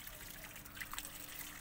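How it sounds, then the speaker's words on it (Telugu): Water trickles faintly from a can onto freshly sown spinach and gongura seeds in a soil-filled plant pot, a soft, brief dribble with small splashes. "దీనికి నీళ్ళు పోసుకుందాం ఇప్పుడు."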